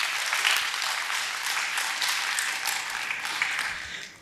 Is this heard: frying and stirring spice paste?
no